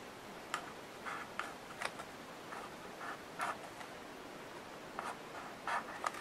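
Pen drawing and scratching on paper during envelope mini album crafting, a quiet series of short irregular strokes that pause and resume, close and soft with no talk.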